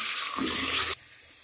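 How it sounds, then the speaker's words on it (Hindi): Water is poured onto browned onions in a pot while making potato pulao, a brief loud hissing splash lasting about half a second before quieting to a low background. "अभी इसमें थोड़ा पानी ऐड करूँगी"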